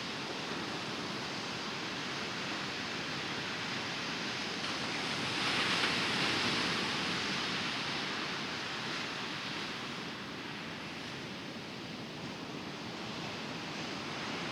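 Ocean waves break on a sandbar along the French coast, a steady broadband rush of surf that swells slightly mid-clip before settling back, with no voices.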